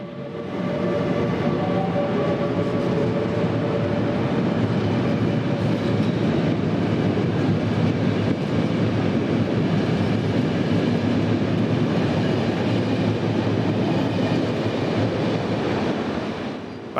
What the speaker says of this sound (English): A quick trip out to Lisbon's Oriente station sees 5612 departing north, eventually bound for Porto.